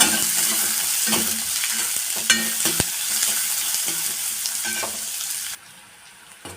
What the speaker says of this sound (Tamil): ஒரு பெரிய வெங்காயத்தை சின்ன சின்னதாக கட் பண்ணி இந்த மாதிரி நல்லா வறுத்து எடுத்து ஒரு பக்கம் வச்சுக்கலாம்